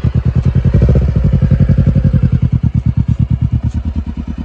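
A Kawasaki Ninja 250R motorcycle runs close by, its engine throbbing in a rapid, regular pulse that starts strong and loud and then settles into an even, chugging rhythm as it rolls along.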